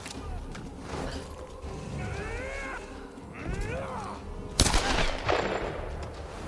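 Gunfire in the video game Tomb Raider: a sharp, loud burst of shots cuts in near the end, following a stretch of whistling, warbling game effects and background ambience.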